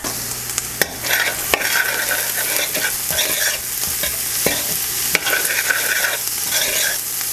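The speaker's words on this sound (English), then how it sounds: "now I'm going to add my garlic to my onions" Garlic tossed into frying onions, a loud close sizzle with repeated spoon scrapes and clacks against the pan at an uneven rhythm, no voices.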